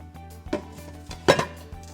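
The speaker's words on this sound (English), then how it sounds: "now I'm just going to place this inner pot into the outer pot" An inner pot placed into the outer pot of a thermal cooker at a camp cook-up: a couple of dull metallic clunks and scrapes, close by, with a light knock between them.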